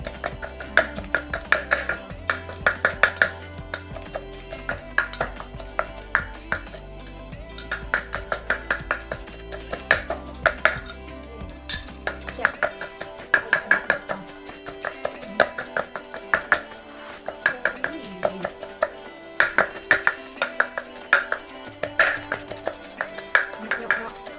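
Steady, rhythmic thuds of a pestle pounding grilled mackerel and chili into a paste in a mortar, repeated blows close by with a faint hum underneath and brief pauses between bursts.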